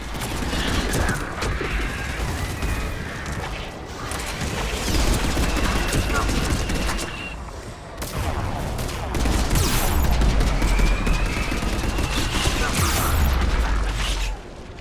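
Aircraft air support in Mass Effect 3 unleashing missiles and then gun fire, a loud, dense stream of booming blasts and rattling shots over roaring battle noise for nearly fifteen seconds.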